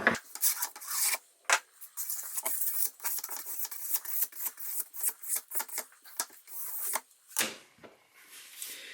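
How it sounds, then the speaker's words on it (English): A stiff brush scrubs residual surface wax off a paraffin ski in quick, close back-and-forth strokes, a dry rasping rhythm broken by a few brief pauses. "we use a scrubbing motion with this brush"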